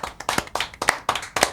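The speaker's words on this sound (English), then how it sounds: "Round of applause for us." Several hands clap together in a short, quick burst of applause, about seven or eight close, sharp claps in an even rhythm.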